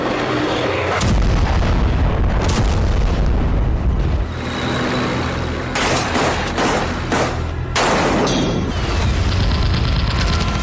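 Explosions from a missile and drone attack on Israel by Yemen's Houthi fighters, a continuous loud rumbling barrage with repeated heavy booms and blasts and no speech.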